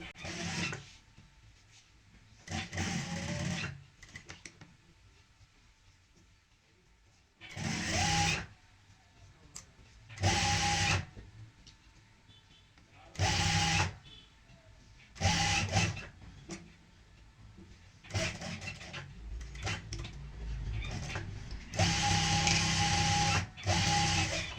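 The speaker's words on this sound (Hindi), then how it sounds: "पलटने के बाद ऊपर से हम यहाँ पे लगा लेंगे किनारे की सिलाई।" An electric sewing machine stitches the turned edge of a half neck collar in repeated loud bursts of rapid whirring and needle clatter, separated by quieter pauses.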